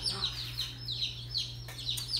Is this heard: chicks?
yes